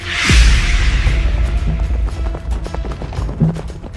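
Horses moving over grassy ground, a loud rush of hooves and movement up close at first, then continuing irregular thuds and rustling.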